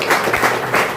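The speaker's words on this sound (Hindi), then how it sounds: "इनके लिए ताली बजाइए।" Short burst of audience clapping at a Hindi-language talk on medicines and nutrition, a room-filling wash of hand claps with slight swells, fairly loud and close, no voices over it.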